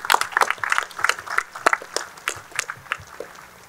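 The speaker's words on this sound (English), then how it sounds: "Terrific applause for them." Applause rises from a graduation crowd for faculty and staff at a prep school, scattered hand claps in a lively uneven patter heard from the hall.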